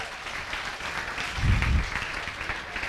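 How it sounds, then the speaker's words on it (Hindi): An audience claps quickly at a motivational talk, a soft, fairly distant patter of hands that stays steady and brief. "ताली बजाइए फटाफट।"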